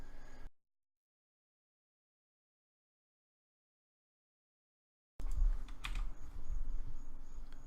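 A computer mouse clicks a few times up close after a long stretch of total silence, with faint room noise around the sharp taps.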